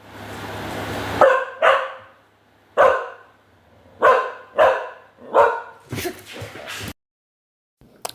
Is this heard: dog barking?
yes